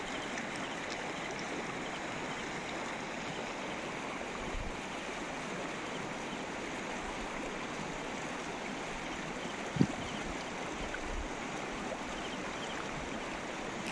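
River water flows steadily in the Aceh interior, a soft continuous rush heard from nearby, with a faint knock or two and no voices.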